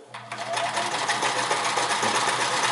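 A Sears Kenmore 158 series sewing machine runs a steady, continuous stitch, its motor whirring loud and close with a rapid, even mechanical clatter and no break throughout.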